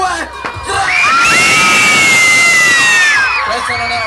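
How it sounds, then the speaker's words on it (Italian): A large convention crowd at Lucca screams and cheers together on a countdown cue, a loud sustained roar with shrill whoops and children's shouts that swells after a short pause and holds for several seconds before easing off. "Al mio tre voglio un urlo che deve esplodere tutto, ok?"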